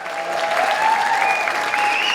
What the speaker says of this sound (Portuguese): Todos aplaudem de pé, inclusive Semaia e Sérgio Vaz.